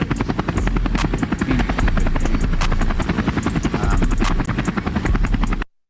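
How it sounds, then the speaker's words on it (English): A helicopter chops loudly and close, its rotor beating in a fast, steady rhythm over a droning engine, with no talking. "Helicopter."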